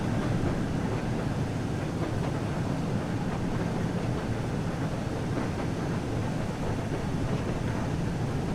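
The Flying Scotsman, a heritage steam locomotive on the West Somerset Railway, runs with a steady, dense rumble and continuous rolling rail noise heard from on board.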